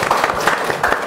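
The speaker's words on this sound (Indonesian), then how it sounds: "tepuk tangan dong" A brief burst of studio audience clapping on an Indonesian business talk show, a dense patter of many hands lasting only about a second.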